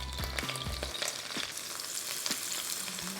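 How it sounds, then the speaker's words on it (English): Green onions, garlic and shallots sizzle steadily in hot oil for pad thai, a loud, close frying hiss with light stirring knocks over it. "So I'm going to start by adding in my green onions,"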